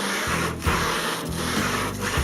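A Model A car body is sanded by hand with sandpaper, producing a close, rhythmic rasping rub with three steady back-and-forth strokes over a constant background hum.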